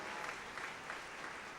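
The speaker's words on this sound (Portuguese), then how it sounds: "Aplauda o Senhor, meu irmão" Steady applause from a crowd, a dense continuous wash of clapping at even loudness.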